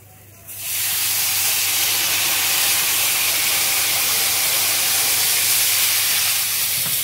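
Water poured into a hot pan of frying beans with mustard sets off a sudden loud, steady steam hiss that starts half a second in and holds strong and close to the end.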